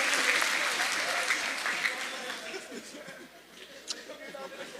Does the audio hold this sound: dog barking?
no